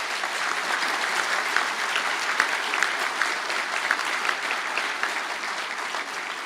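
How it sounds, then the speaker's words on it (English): Audience applause fills a graduation conferring ceremony for Atlantic Technological University in Galway, a steady dense clapping from a large crowd that holds at an even level throughout with no one speaking. "I think that deserves a round of applause."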